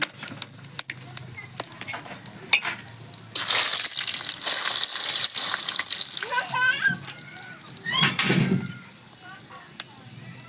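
Whole cumin, bay leaf, cinnamon, star anise and green and black cardamom hit a hot pan for a cockerel chicken curry, giving a loud crackling sizzle in the middle stretch that settles back, with someone talking over it.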